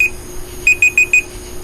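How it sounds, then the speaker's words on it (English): Four quick, high electronic beeps in an even rhythm, loud and close, over a steady low hum. "how loud that beep beep beep beep might be when it's like right there on the computer itself"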